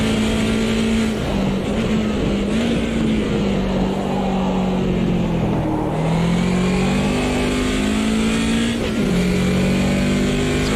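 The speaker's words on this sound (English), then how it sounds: "Let it rev out in 4th gear." A BMW 2002 Turbo in Automobilista 2 revs out in fourth gear, its engine droning loud and steady while the pitch climbs and dips through gear changes and throttle lifts, with no talk over it.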